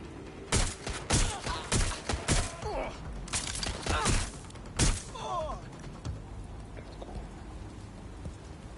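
Gunfire in the Watch Dogs Legion game, a rapid string of sharp shots and bursts in the first five seconds, then a quieter stretch with only faint scattered noise.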